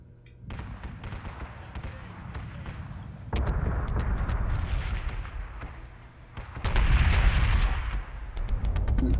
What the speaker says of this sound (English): Alright, I'll leave the fighter action in the background.